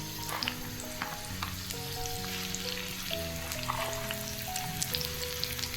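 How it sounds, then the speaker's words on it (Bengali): Potatoes sizzle and crackle in hot oil in a small wok, a steady close frying hiss with scattered pops, while a background tune plays. "আলু ভাজি।"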